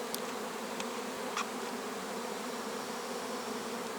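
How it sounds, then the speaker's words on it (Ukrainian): Bees hum continuously up close at a beehive window, a dense steady buzzing with a few brief higher ticks. "можливо камера зніме, як йде на ліс у віконце бджола"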